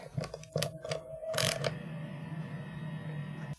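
Screws fastening a guitar neck are turned snug, giving a few close clicks and short ratcheting scrapes, then a quiet mechanical hum.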